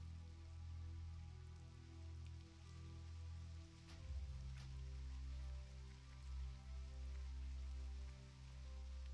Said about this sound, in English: A little rain sound.